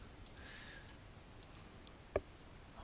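A single sharp computer mouse click sounds midway through, small and close, with faint ticks scattered before it over a quiet low hum, no voices.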